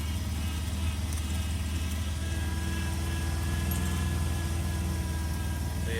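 A barn-find Triumph Spitfire engine, newly started after 43 years and with carburetors needing tuning, runs at a steady, even idle close by, fairly quiet throughout.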